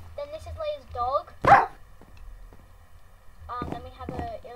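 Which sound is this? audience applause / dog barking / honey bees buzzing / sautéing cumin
dog barking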